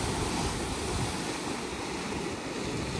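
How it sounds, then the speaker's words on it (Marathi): Sea waves surge and crash against the stone walls of Sindhudurg fort on the coast, a dense continuous roar mixed with wind buffeting the microphone, no voices. "लाटा बघा कशा येतात जोरात लाटा येतात"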